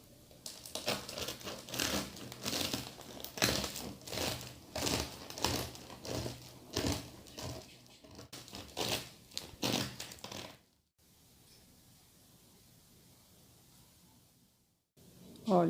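A loaf of homemade sourdough bread is sawed with a knife, giving a run of rhythmic crackling, crunching crust strokes close up for about ten seconds, then a quiet pause before a faint final cut.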